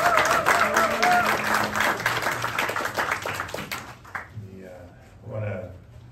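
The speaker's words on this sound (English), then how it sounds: "A round of applause for Senator Durbin's years and years and years." An audience at a Tax Day economic briefing applauds Senator Durbin, a dense wash of clapping that holds for about four seconds and then fades away into a quieter room with a few scattered sounds.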